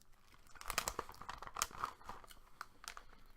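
Crunchy Bombay mix, dry peanut-based snack, being chewed close up: irregular crisp crunches and crackles of moderate loudness, with no talk.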